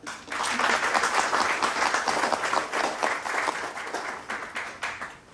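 Audience applause at a Korean book launch event, a sustained, dense wash of many hands clapping that holds steady for several seconds and ends abruptly.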